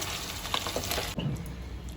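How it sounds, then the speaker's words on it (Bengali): Pieces of chicken fry in a pan over low heat, giving a steady, close sizzle with light crackles that continue throughout the short stretch without any talking. "আমি এরকম করে হালকা আঁচে চিকেনটাকে ভেজে নিচ্ছি।"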